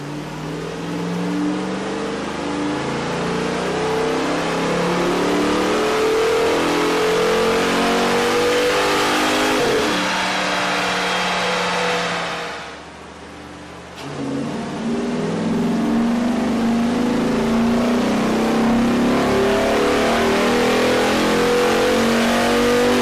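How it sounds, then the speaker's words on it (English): A car engine fitted with a K&N 57-1555 cold air intake revs loud and close on a dyno, climbing steadily in pitch, briefly dropping off after a shift, then roaring back up through the gears. "we ran the vehicle on the dyno to test the sound comparison versus the stock intake"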